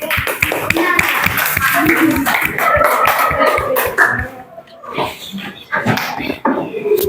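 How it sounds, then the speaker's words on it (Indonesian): A classroom of students claps for the banana group in a lesson, quick scattered claps starting together and tapering off, mixed with chatter and a few vocal sounds. "tepuk tangan untuk kelompok pisang"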